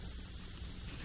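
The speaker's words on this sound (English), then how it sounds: "I'm gonna spray paint all over." Spray paint hissing in the destruction game Teardown, a steady broadband hiss held for the whole second at moderate, even loudness with no talk over it.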